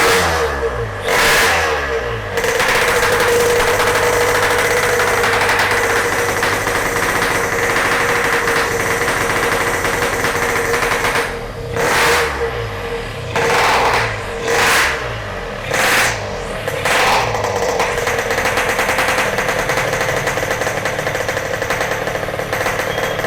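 A Yamaha RX King two-stroke motorcycle, fitted with a V-Force3 reed valve, starts up and revs loudly, its crackling exhaust rising and falling in repeated sharp blips over a steady idle, close and alone with no talk.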